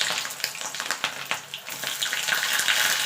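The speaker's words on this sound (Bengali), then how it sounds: "প্রথমে আলুটাকে ভেজে নেব।" Potatoes frying in hot oil in a home kitchen for vegetable khichdi, a steady crackling sizzle with scattered sharp pops, close and fairly loud with no talking.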